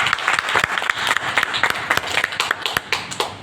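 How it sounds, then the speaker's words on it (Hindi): An audience at an agriculture training program gives a short round of applause, with distinct individual claps standing out sharply within the crowd clapping, ending in a few scattered claps. "साथ ही साथ आप सभी का एक बार जोरदार ताली चाहूंगा"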